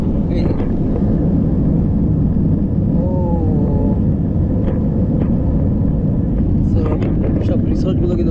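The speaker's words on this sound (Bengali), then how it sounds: "এখন রানের উপরে, এবং একটু পরে কিন্তু টেক অফ করবো।" An airliner accelerates down the runway for takeoff, heard from inside the cabin as a loud, steady engine roar and rumble, with someone talking over it.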